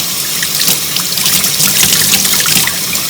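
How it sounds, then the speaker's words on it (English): Water runs steadily from a tap to rinse a Rotax aircraft engine air filter from the inside out, giving a continuous loud hiss and splash with no pauses. "Rinsing again from the inside out."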